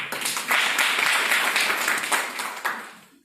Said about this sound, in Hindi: एक ताली बजा सकते हैं उनके लिए